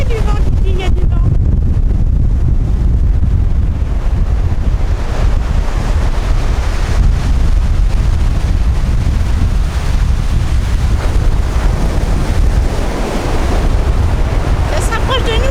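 Strong storm wind batters the microphone on a beach at Trestraou while surf roars continuously beneath it. The sound is loud, close and buffeting throughout.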